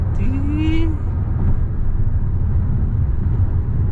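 A Hyundai Palisade Facelift accelerates at quarter throttle to overtake on a highway near Ngawi, heard from inside as a steady, loud low cabin rumble of engine and road noise, with a brief voice at the start.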